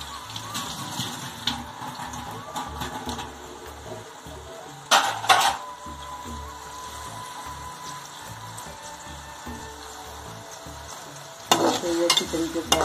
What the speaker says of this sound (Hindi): ऑयल हमारा गर्म हो गया, अब इसमें मैं प्याज और टमाटर मिक्स कर देती हूँ इसको अच्छी तरह फ्राई करके